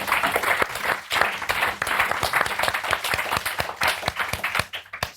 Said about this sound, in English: Give them a round of applause now.